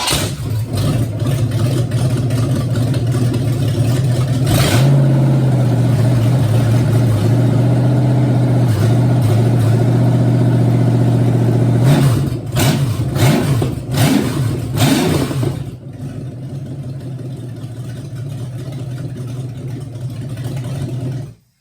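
A V8 engine runs on a test stand, revving up loudly with a steady held tone, then dropping back before settling into a rough, quieter idle. No one speaks over it.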